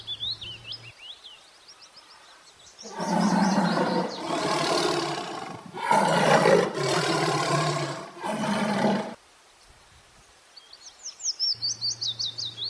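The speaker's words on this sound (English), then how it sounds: "T for tiger" A tiger gives a series of loud, rough roars lasting several seconds in a children's alphabet rhyme, with bright bird chirps before and after.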